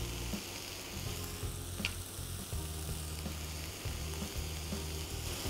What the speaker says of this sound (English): Shift all the vegetables to one side. Add a little more butter.